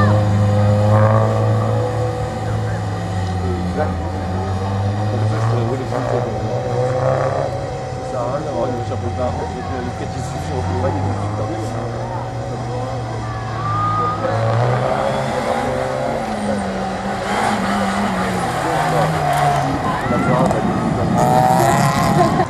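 A Group N rally car sponsored by a local garage runs a slalom course, its engine revving and shifting through rising and falling pitch sweeps, steady and loud throughout, while a commentator talks over it.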